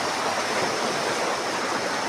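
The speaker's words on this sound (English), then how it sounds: "this river, like the river Kuja here" The river Kuja in Kenya runs in a continuous broadband rush of flowing water, close and even, with no breaks or voices.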